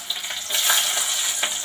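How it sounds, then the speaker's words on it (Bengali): Peanuts hit hot oil in a pan with a loud, close, continuous sizzle and crackle that swells after the first half second, with no talking. "এবার দিয়ে দিলাম তেলের মধ্যে বাদামটা ভেজে তুলে রাখবো বলছিলাম।"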